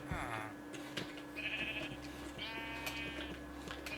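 Sheep bleat in the Minecraft video game, several short wavering calls close by over faint background game sound, with no talking.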